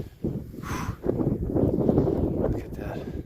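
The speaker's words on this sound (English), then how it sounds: "Look at the wind blowing the snow. Wow. Oh man, it's really windy." Strong winter wind gusts across snowy open ground during Pennsylvania deer season, a rough roaring rush that swells after a quiet start and stays loud and close on the microphone.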